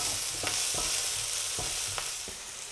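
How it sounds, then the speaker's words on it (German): Garlic sizzles in a pan beside goose legs, a steady frying hiss with occasional stirring scrapes and light taps. It is close and clear, and no one speaks. "wenn das Ganze schon ein bisschen Farbe hat, geben wir unseren Knoblauch dazu"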